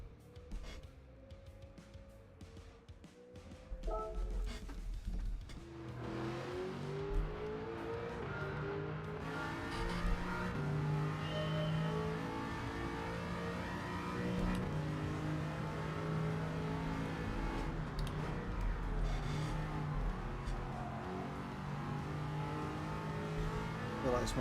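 In Gran Turismo 7 a race car runs a full lap on a European circuit, its engine revving hard and climbing through gears in a steady loud drone with shifting pitch, and a brief break before it launches.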